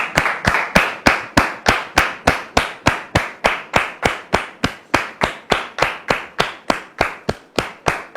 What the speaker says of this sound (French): Dame Kofi Solange, sous vos applaudissements, s'il vous plaît.